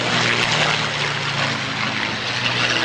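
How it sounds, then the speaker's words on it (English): A Hawker Hurricane fighter passes over an RAF Waddington airshow, its propeller engine producing a loud, steady broadband drone with a low harmonic hum that holds level for the whole stretch, no voices over it. "that's the Hurricane, an outstanding machine"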